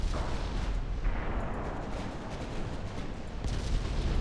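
Naval gunfire in Ultimate Admiral Dreadnoughts, with heavy ship guns booming in a continuous, rumbling barrage and cannon blasts overlapping into a dense, low roar of battle.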